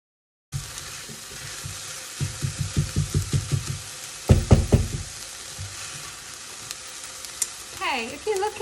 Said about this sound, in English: saute these until they're all sweated and soft and clear